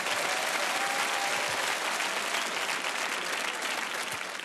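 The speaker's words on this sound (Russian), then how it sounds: "Аплодисменти." Steady, dense applause from a game show studio audience fills the whole stretch at full strength, easing slightly only at the very end, with no voices over it.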